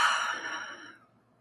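A single slow, deep breath drawn close to the microphone, a soft airy rush that swells and then fades into quiet.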